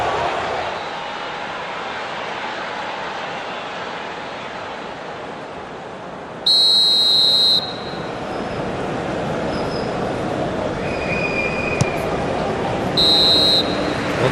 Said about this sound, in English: Well, there's the whistle.